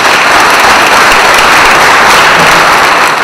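Dense, loud applause from a crowd at a Vanadzor local election campaign event, breaking into Artur Nalbandyan's speech. The clapping runs steadily and continuously throughout, with no voices rising above it.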